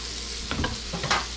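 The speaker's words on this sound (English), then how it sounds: "Give that a little mix." Chorizo frying in a pan is stirred with a couple of quick scraping strokes over a steady close sizzle, brief and without speech.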